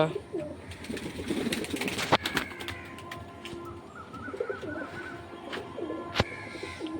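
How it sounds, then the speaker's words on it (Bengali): Pet pigeons coo in low, soft repeated calls close by, with a brief burst of wing flapping and scattered background noise. "তো গাইস দেখো আমার পায়রাগুলো সব বেরিয়েছে"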